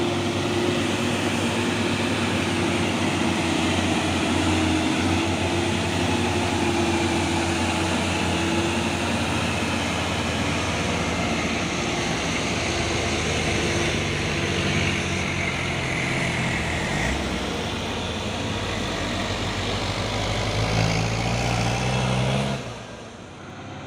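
A large trailer truck rumbles in steadily with a heavy low engine drone, holding loud and close for most of the stretch before easing off near the end.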